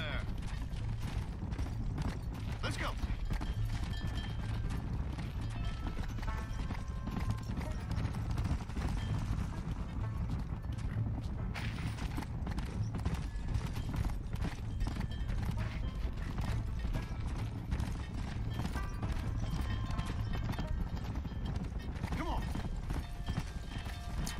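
Horse hooves galloping in the Red Dead Redemption video game, a steady rapid clip-clop throughout with creaking tack, an occasional whinny, and in-game music and sounds beneath.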